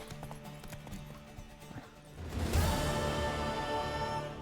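Horse hooves in The Witcher 3 video game, a faint rhythmic clip-clop that gives way to a louder rushing gallop with busy game ambience, no talk.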